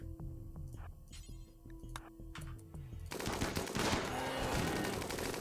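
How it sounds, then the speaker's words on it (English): Rapid machine-gun bursts and gunshots from a RimWorld combat scene, steady repeated firing that swells louder and denser partway through, with no talking over it. "Don't shoot Vocable"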